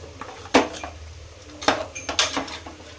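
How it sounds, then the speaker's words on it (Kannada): Metal spoon scraping and clinking against a pot while three masala spices are stirred together for biryani, a few sharp knocks standing out amid softer scraping, close and fairly loud. "ನೋಡಿ 3 ಮಸಾಲಾ ಐಟಮ್ಸ್ ಹಾಕ್ಬಿಟ್ಟು ಚೆನ್ನಾಗಿ ಮಿಕ್ಸ್ ಮಾಡ್ತಿದ್ದೀವಿ"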